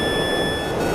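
A steady high electronic radar tracking warning tone in a combat flight simulator cockpit holds throughout, accompanied by faint constant hum, like a continuous warning signal.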